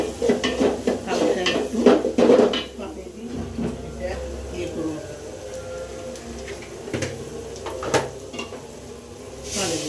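Mutton with spices being stir-fried in a pot, metal spoon scraping and clanking against the pot over a low sizzle, busiest at the start and sparser later, with someone talking intermittently.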